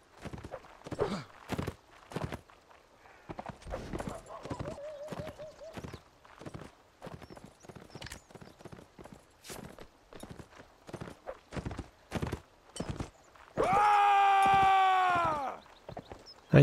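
Hooves beat in a regular, distinct stride during a Napoleonic Wars battle in the video game Mount & Blade Warband, with a loud sustained tonal blast near the end.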